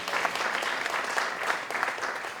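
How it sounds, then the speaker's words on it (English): Audience applause at the 2020 Premier's Awards, held at City Hall in Bermuda: a steady, dense patter of many hands clapping, moderately loud, lasting the whole moment. "you can clap for it"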